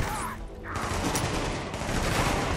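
Gunfire in The Division, a third-person shooter: a dense, continuous clatter of rapid shots and bursts throughout, loud and close, with no clear pauses.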